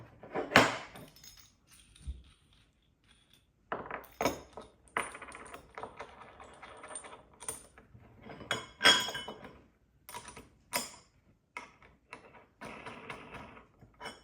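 Metal bolts and gate hinge plates clinking while a gate's hinges are taken apart, sharp irregular metallic clinks and rattles in close bursts separated by short pauses, no talking.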